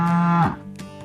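A cow moos once, a low sustained bellow that slides down and fades out, heard close with a soft musical background tone and no talk.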